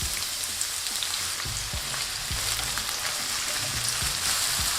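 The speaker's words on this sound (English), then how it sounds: "Grab a pan and turn the heat to medium-high with a good touch of oil. Now when the oil is nice and hot, and with the onions," Thinly sliced onions fry in hot oil in a pan over medium-high heat, a dense, constant crackling sizzle like rain, close and loud, with faint low knocks beneath.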